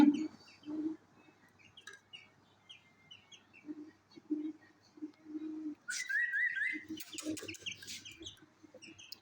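Small birds chirp and peep in short bursts over low clucking, with a brief rising trill and flurry of tweets midway, close by.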